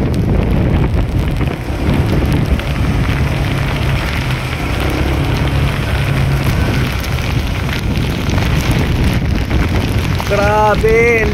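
Heavy rain pours during a motorcycle ride through flooded roads, a loud, steady hiss mixed with rushing wind on the microphone, with a voice speaking briefly near the end.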